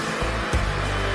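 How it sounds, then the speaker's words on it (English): A hair dryer runs continuously at maximum power, its loud, steady broadband rush of airflow holding throughout with slight low fluctuations as a ping pong ball floats in the stream. "Turn on the hairdryer at maximum power and place the ball in the airflow."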